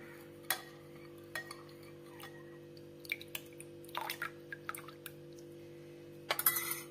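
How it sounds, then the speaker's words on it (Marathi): A spoon whisks a milk mixture in a bowl, making sharp intermittent clinks and scraping taps against the rim with quieter swirling between them, close and alone over a steady background hum. "हे चमच्यानं सगळं आता फेटून घेते"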